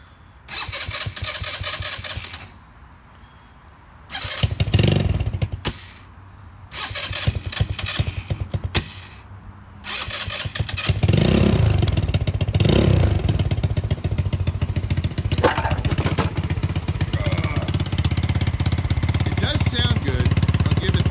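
A custom Roma 150cc Super Hornet motorcycle cranks a few times in short bursts, then catches and settles into a steady, loud close-up running idle that carries on to the end.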